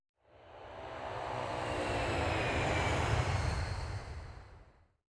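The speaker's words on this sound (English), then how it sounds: "Yes, Pilot Blinky goes with the aeroplane." A propeller aeroplane engine in a 1999 PC preschool game drones, swelling up from quiet to a full roar and fading away again over a few seconds.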